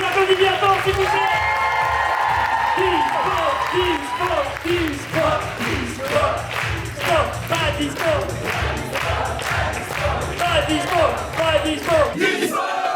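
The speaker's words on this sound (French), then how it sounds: "On va les applaudir bien fort, s'il vous plaît." A studio audience at a French dating show bursts into loud applause and cheering, with whoops and shouts over steady clapping that rolls on for several seconds, fairly close and full.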